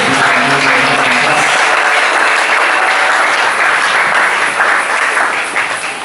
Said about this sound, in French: Nous pouvons commencer la parole en acclamant fortement le Seigneur